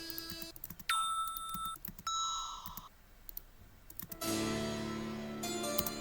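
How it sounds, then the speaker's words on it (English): Synth bell presets from Aona in Vital play several clear, ringing tones, one after another, each with a different pitch and timbre and no talking over them. "I have 3 Vital preset bells from Aona."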